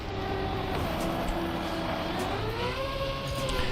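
A continuous synthetic engine drone with rising and falling pitch, steady and loud throughout, like a racing game car revving through gears.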